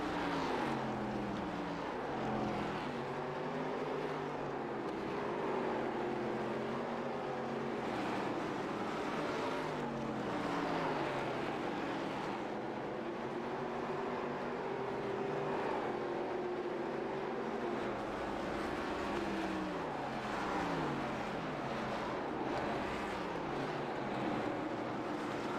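Race cars at Nashville in a Next Gen Old School Series 150 lap the track and pull onto pit road, a continuous loud engine drone with rising and falling pitch as cars pass, steady throughout.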